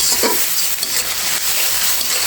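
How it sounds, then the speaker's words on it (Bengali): Ground onion, green chili, ginger and garlic paste sautéing and being stirred in a pan for a duck egg curry, a loud continuous sizzle with a brief scrape of stirring near the start. "আদা আর রসুন একসাথে বেটে নিয়েছি দিয়ে দিচ্ছি নেড়ে ছেড়ে সুন্দর করে কষিয়ে নিচ্ছি"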